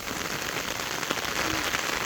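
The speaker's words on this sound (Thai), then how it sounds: "พอดีฝนตกพอดีเลยนะฮะชื้นชุ่มฉ่ำเลย" Rain falls steadily in a dense, even patter on surfaces close by, continuous and unbroken through the short stretch.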